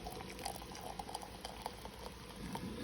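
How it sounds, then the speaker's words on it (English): Just-boiled water poured into a pot of frozen collard greens, giving a steady close splashing and bubbling wash with small pattering bursts, no talking. "I'm gonna put the water in here."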